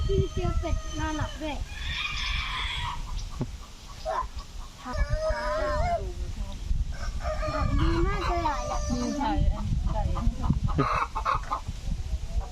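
Several breeds of ornamental chickens at a Buddhist temple in Sisaket, Thailand, cluck busily while a rooster crows more than once, fairly close and loud, with people talking in the background.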